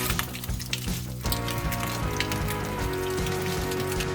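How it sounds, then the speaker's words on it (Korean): Slices of Spam sizzle and crackle in a hot uncoated frying pan, a steady close spitting hiss with scattered pops, no talking. "달궈진 팬에 스팸을 넣어주세요."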